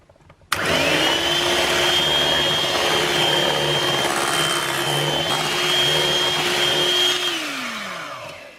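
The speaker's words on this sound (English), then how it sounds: "And then we'll give it a good final whisk through." An electric whisk whips a lemon kefir cheesecake mousse in a steady, loud continuous whir that starts abruptly, holds for several seconds, then winds down at the end; no talking.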